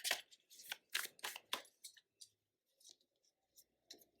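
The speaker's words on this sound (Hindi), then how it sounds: "एक और कार्ड निकालते हैं" A tarot card pulled from a deck during a reading: a quick run of crisp papery swishes and flicks, then a few lighter scattered taps and rustles, close and quiet.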